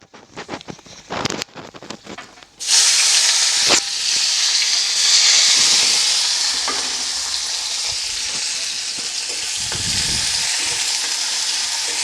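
Finely chopped onion drops into hot oil in a pan for Bengali aar fish kalia, bursting into a loud continuous sizzle with steamy hiss and occasional stirring scrapes, following a few quieter clinks and rustles.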